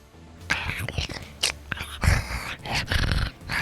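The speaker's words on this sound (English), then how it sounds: "sounds like a dog" A low dog growl rises behind the listener in a Cyberpunk RED tabletop session, rumbling and snarling in uneven bursts, close and fairly loud, with quiet whispered voices mixed in.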